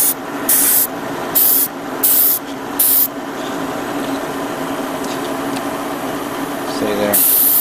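Thinned paint sprayed from an airbrush onto a plastic model kit of a spaceship, four short loud bursts of hissing spray in a regular rhythm, then a steady airflow hiss and a final longer burst.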